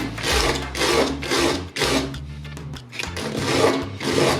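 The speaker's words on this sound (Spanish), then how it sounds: "utilizamos la lija 80 de nuevo para darle forma a nuestras piezas" Coarse 80-grit sandpaper scraping over epoxy resin rings being shaped, in strong rhythmic back-and-forth strokes with brief pauses, close and gritty.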